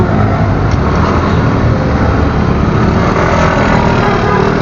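Steady close road traffic with car and engine noise, a continuous loud rumble of passing vehicles that holds an even level throughout with no break.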